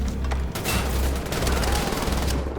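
Machine gun fire in the video game Wolfenstein: The Old Blood, a dense continuous burst of rapid shots, loud and close throughout, with no talking.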